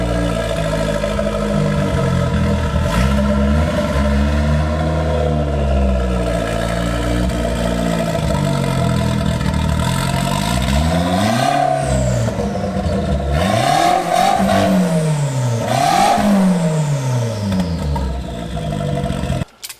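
A Toyota MR2 Spyder turbo roadster is driven slowly backwards and forwards, its mid-pitched engine idling and rising in several short revs with shifting tones, steady and close, with no talk.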